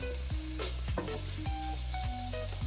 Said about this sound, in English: While our meat is browning, I'm going to add some delicious garlic in there.